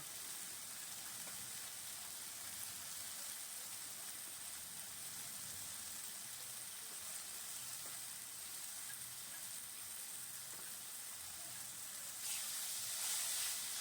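Keema mince with green chilli paste, cumin, coriander and turmeric sizzling in a pan, a steady quiet hiss throughout, rising briefly louder near the end.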